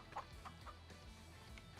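Chickens cluck in a Farming Simulator video game, a few soft, short clucks repeating at an irregular rhythm over a low background hum, faint and at a distance.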